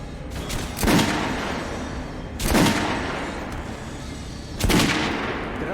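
Gunfire in the video game Metro Last Light rings out at training dummies on a firing range in three separate loud bursts, each trailing off into a lower background rumble.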